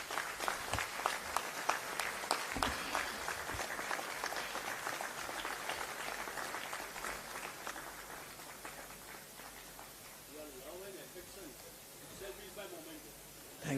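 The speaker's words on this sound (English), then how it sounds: "A round of applause, please." An audience applauds a memento presentation at a university moot court competition ceremony: dense, sustained clapping that fills the room, then gradually thins and fades as a voice begins speaking over it.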